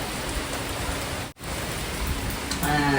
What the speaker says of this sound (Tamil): மழை எப்பவுமே நம்ம செஞ்சோடனே இங்க மழை வந்துருங்க